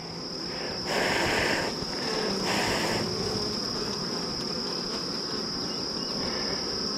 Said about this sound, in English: there's a virgin queen right there, piping